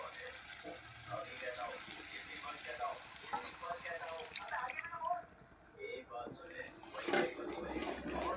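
Water goes into fried chicken and masala in a pan as the curry gravy is started, a soft pouring and sizzling running steadily through, with a voice talking over it.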